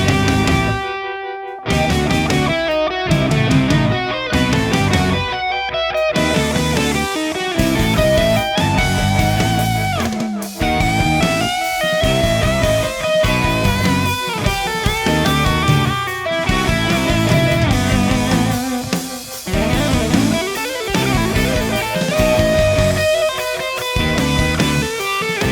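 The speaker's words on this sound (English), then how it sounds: "Really killer sounding amps." Electric guitar played through a Sun Amps Model T amp model on a Line 6 POD Go, a dense, loud run of chords and single-note lines lasting about 25 seconds with no talking.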